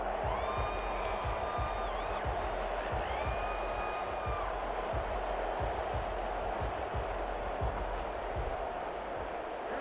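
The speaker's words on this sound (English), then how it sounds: "The crowd here in the Dome making things difficult." Stadium crowd roar inside a domed stadium in the Madden NFL 21 football video game, a steady dense wash of noise with faint rhythmic low thumps running under it throughout.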